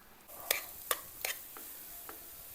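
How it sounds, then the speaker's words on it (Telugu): An onion tempering for Nellore-style village sambar is stirred in a pan, with a soft frying hiss behind three sharp utensil scrapes and clinks and two fainter ones, close and quiet, with no voices. "ఇక ఉల్లగడ్డ తాలింపు తయారు చేస్తున్నామండి"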